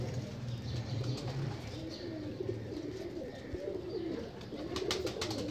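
BMW breed pigeons cooing steadily in an Indian pigeon loft, a low continuous murmur of several birds close by, with faint chirps and someone talking over them.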